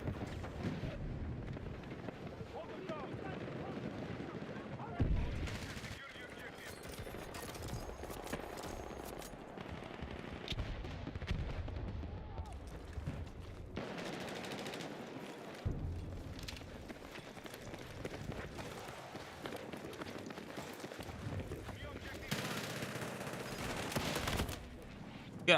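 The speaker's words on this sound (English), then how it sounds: "I kind of like this LMG." An LMG light machine gun fires in Battlefield 6, with long rattling bursts and booming shots over a noisy battlefield backdrop of wind and distant blasts, no talk on top.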